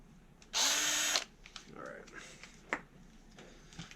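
A power drill whirs loudly for about half a second while spinning a valve suction cup on a Honda/Acura J-series engine. Softer rattles, taps and a voice follow.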